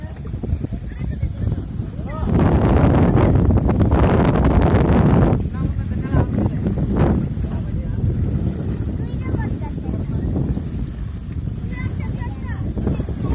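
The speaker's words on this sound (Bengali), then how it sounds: "এই আর একটা ট্রলার।" A trawler boat on open wetland water in Nasirnagar, Brahmanbaria, passes with a loud surge of broadband engine and water noise over a few seconds, then settles into a steady rumble with wind buffeting and voices nearby.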